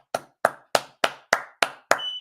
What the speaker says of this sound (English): Clap it up for your boy.